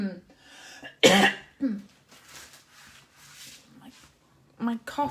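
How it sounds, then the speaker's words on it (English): A woman gives a lingering cough, one sharp burst followed by smaller throat sounds and quieter breathy noises in a calm room, with another cough near the end. "I've definitely got a lingery kind of cough"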